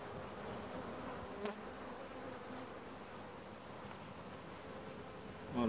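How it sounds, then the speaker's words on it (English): Honeybees buzzing around an open hive during a frame inspection, a steady faint drone of many insects close by, with a brief tap or knock partway through and at the end. "A lot of bees here."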